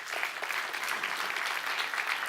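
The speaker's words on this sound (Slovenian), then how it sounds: "tako da si zaslužite en velik aplavz." A crowd applauds at the closing event of a partnership program, with dense, even clapping that holds steady from start to finish.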